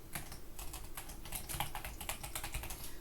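Typing on a computer keyboard, a quick continuous run of close clicking keystrokes with uneven rhythm, with no speech over it.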